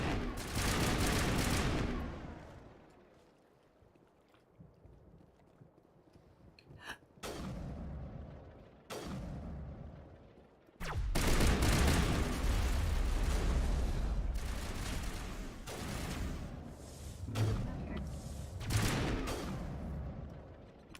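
Gunfire in the sci-fi shooter game Mass Effect, with sustained rapid volleys and heavy booming bursts in long loud stretches separated by quieter gaps and single sharp shots.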